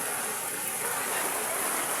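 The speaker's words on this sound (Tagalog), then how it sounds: "Sobrang lakas ng ulan." Heavy rain pours down in strong wind, a dense, constant roar of water striking surfaces close by, unbroken from start to finish.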